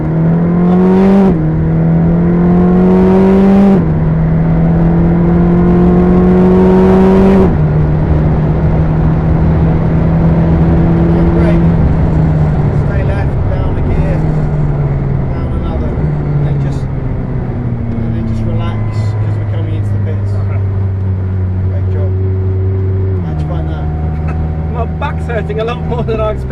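A McLaren 620R race car on track at Silverstone revs hard and climbs through the gears, its engine note rising in steps and then dropping on downshifts, loud and close inside the cabin with talking over it.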